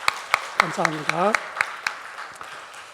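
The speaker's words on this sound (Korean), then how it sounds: "우리가 감사함으로 우리가 위로 축하 박수" Congregation applause at a church service, celebrating a family's new baby, with regular sharp claps spread across the clip under a speaker's voice giving thanks.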